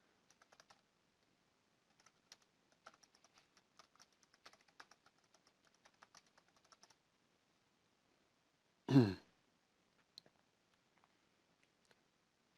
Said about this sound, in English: let me go ahead and type what it says